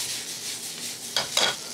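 A spoon or spatula stirs bacon fried rice in a hot pan, a soft sizzle with a few close scraping strokes near the end.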